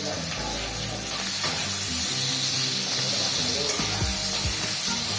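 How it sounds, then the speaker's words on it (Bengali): Chopped tomato hits a pan of fried onions and sugar and sizzles loudly with a steady hiss, joined by a few low stirring knocks, close up, with no one talking. "এইবার কেটে রাখা টমেটো কুচি দিয়ে দিলাম"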